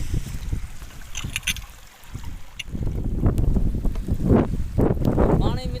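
Swollen river rushing after heavy rain, a broad roaring wash of water mixed with wind buffeting on the microphone, while someone talks over it and light rain begins.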